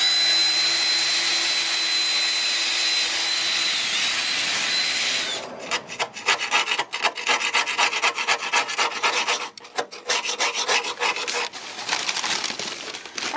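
Rust being sanded off a Mazda MX5 Miata fender: a steady whirring tone gives way midway to rough, scraping strokes of abrasive on metal, close and fairly loud.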